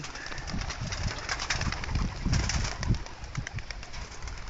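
Pigeons cooing and fluttering nearby, with bursts of wing flapping over a busy, continuous bird chatter.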